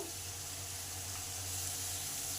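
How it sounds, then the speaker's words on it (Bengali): Spice masala frying in a pan while it is cooked down for a vegetarian omelette curry, a steady close hiss and sizzle with no talk. "সমস্ত মশলাটাকে ভালো করে কষে নিতে হবে।"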